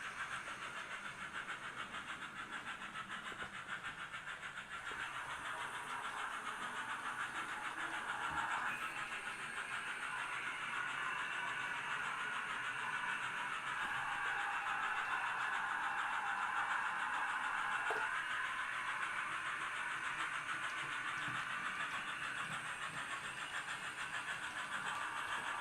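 Model railway locomotive running round a modular layout, a steady continuous motor whir and rail rumble with a broad mid-range hum, fairly loud and unbroken throughout with no talking.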